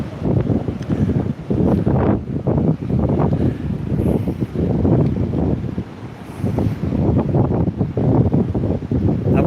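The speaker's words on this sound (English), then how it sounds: "Here it's warm but windy." Steady gusts of seaside wind at Withernsea buffet the microphone with a low, rumbling roar, close and continuous, with a faint wash like surf behind it.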